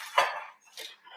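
Small round Maltesers tumbling into a bowl of rocky road mixture, giving two quick clattering bursts close by, a louder first spill and a softer second one, with no talking.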